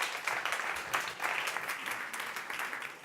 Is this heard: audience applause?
yes